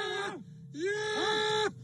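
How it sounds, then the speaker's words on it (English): A man forcibly restrained inside a car lets out strained, drawn-out groaning wails in two long bursts with a short break between, loud and close. "This is a video of a man gasping for breath."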